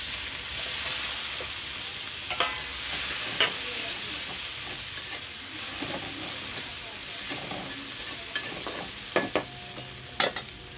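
Onions go into hot oil in a home kitchen, where a Bengali tangra fish curry with potato and papaya is being cooked. A continuous near sizzle follows, broken by clinks and stirring knocks toward the end.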